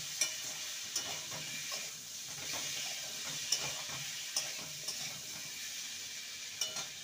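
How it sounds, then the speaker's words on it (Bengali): Fried pumpkin and potato pieces are stirred into a spice paste, giving a continuous low sizzle in oil with repeated light scraping and clinks of a spatula against the pan, close up, and no voices. "এবার ভেজে রাখা কুমড়ো আর আলু দিয়ে দেবো। ভালো করে মশলার সাথে কষিয়ে নেব।"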